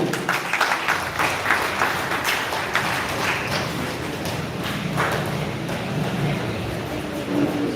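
A village audience at a seminar against drugs claps loudly and steadily in a dense, continuous burst of applause that lasts the whole stretch. No voices rise above it.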